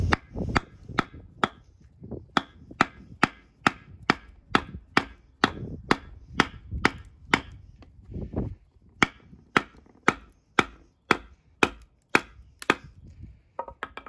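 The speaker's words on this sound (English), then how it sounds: "If you're going to use your axe, you could take swings at it and chop, or you could just seat it there and then go for it with batoning." Axe batoning through firewood, a long run of sharp, evenly spaced wooden whacks and splitting knocks, close and loud, with brief pauses between strokes.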